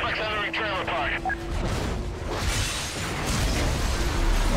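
A heavy gunshot in Need for Speed: Most Wanted booms out after a short burst of game sounds, followed by a rumbling, noisy tail of mechanical clatter.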